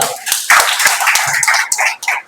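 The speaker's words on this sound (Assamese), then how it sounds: "এবাৰ হাত চাপৰি বজাই দিব জোৰদাৰ।" An audience at a meeting claps by hand, a quick, uneven patter of claps heard close, with voices mixed in.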